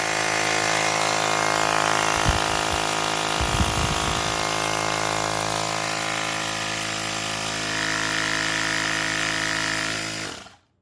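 HKN 7.4V 2600mAh lithium-ion portable rechargeable air pump running on test, a steady close motor whine and buzz that holds for about ten seconds before cutting off abruptly, with a couple of brief knocks partway through.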